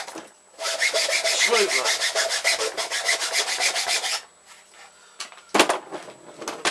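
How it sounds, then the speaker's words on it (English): Hand file rasping across wood between drilled holes while shaping a pistol crossbow part, a steady run of rapid back-and-forth strokes for about four seconds, close and loud, then a pause, a brief clatter and a short spoken word. "So now I'm just going to file between these holes."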